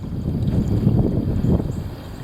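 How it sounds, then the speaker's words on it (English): Heavy wind roaring and buffeting against the microphone in a steady, loud low rumble with gusty surges, no voices. "The heavy wind. Here it is."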